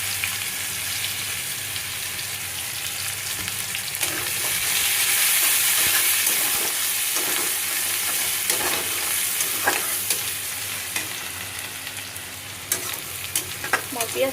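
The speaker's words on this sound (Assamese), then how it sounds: "এয়া পিঁয়াজ দি দিছোঁ" Chopped onions frying in oil previously used to fry fish, a steady loud sizzle with scattered scraping and stirring clicks throughout, no voices.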